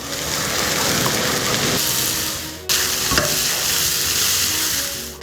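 Spices stir-frying in a hot wok for Padang-style beef rendang: a loud, continuous sizzle and crackle that runs steadily from start to finish, close up, with no talking.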